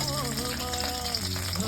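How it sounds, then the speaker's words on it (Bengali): Fish frying lightly in a pan gives a steady, moderate sizzle, with a faint voice and some kitchen sounds underneath. "মাছটা একটু হালকা ভাজা হবে, কিন্তু কড়া হবে না"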